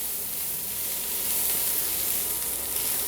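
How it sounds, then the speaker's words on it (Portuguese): Chopped onion and calabresa sausage frying together in a pan on the stove, a steady, loud, bright sizzle and hiss running unbroken with no voices. "Assim a cebola vai fritando aqui, refogando junto com a calabresa."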